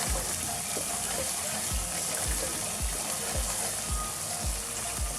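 Chicken bhuna frying and being stirred in a pan, a continuous loud sizzle with regular low thumps of the spoon against the pan about every half second.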